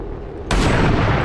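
A single loud, close reaction gunshot in XCOM 2 cracks in abruptly after a low rumble and holds as a dense, sustained blast.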